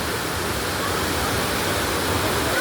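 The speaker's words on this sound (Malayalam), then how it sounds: "വെള്ളച്ചാട്ടത്തിൻ്റെ താഴെ നിൽക്കുമ്പോൾ കുളിർക്കാറ്റ്" Aruvikuzhy waterfall in Kerala roars steadily nearby, a thick unbroken wash of cascading water filling the whole stretch.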